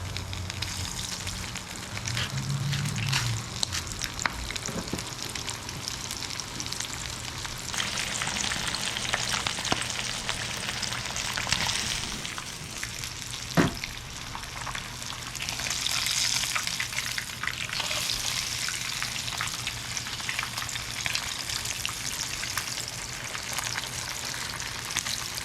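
Breaded bluegill fish fry in a pan of hot oil, a continuous close crackling sizzle that swells and eases with a few sharper pops and clicks, no talking.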